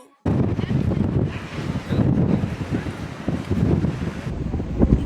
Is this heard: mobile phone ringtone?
no